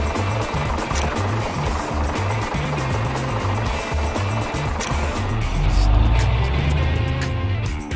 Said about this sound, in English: This is a dump truck.